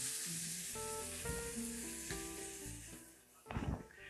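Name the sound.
chunk of meat searing and sizzling on a hot surface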